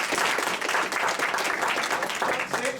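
An audience at a graduation ceremony applauds, a dense, steady wash of many hands clapping at close range, filling the whole moment without a break.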